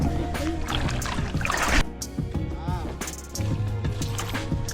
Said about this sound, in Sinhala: ඔන්න guys ඔරුවක් දානවා දැන් අපි